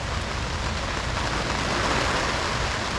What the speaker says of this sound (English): You can probably hear the rain hitting the canopy.